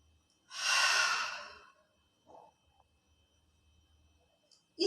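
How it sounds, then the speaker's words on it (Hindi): A single long, breathy 'ha' exhalation in a yogic breathing exercise, loud and close, followed by a short faint breath and another breath onset at the end, with no talking. "और हा की आवाज छोड़ते हुए सांसों को निकालेंगे"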